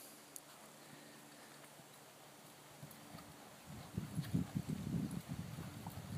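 A horse moves from a walk into a lope, its hoofbeats quiet at first and then building into a louder, rhythmic clip-clop over the last couple of seconds, with no talking.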